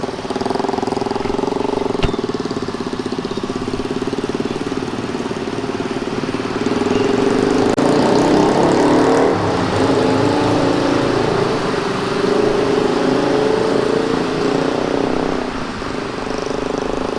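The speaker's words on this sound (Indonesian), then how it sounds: "Wih, macet di terowongannya." Engines idling in a traffic jam inside a road tunnel, heard from a motorcycle rider's position: a continuous, loud, enclosed rumble of mid-range engine drone that stays steady and close throughout.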